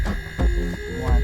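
A homemade vacuum and pressure pump used for refrigeration and AC repair runs on 120 volts with a steady, close electrical hum and a low throb that swells and eases slightly.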